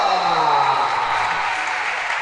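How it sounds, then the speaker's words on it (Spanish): Applause from the audience at a Galician women's basketball cup award ceremony, a steady, dense wash of clapping that fills the whole stretch without a break and stays loud throughout. "¡Fuerte aplauso!"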